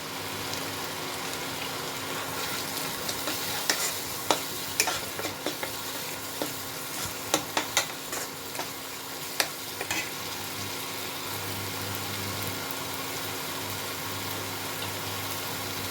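Spices, salt and turmeric fry in hot oil for dum aloo, a continuous sizzle with a burst of quick scraping and clinking stirs in the middle before settling back to steady frying.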